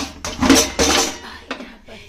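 Dry cooking pots, a kadai lid and small plates are set back in their places in a home kitchen, giving several close metallic clanks and clatters in quick succession.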